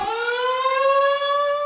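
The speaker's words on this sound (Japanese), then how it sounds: "アルカトラズにサイレンが鳴り響きました" A loud, steady siren wails over Alcatraz prison, holding one sustained tone that climbs slightly in pitch across its length with no other sounds.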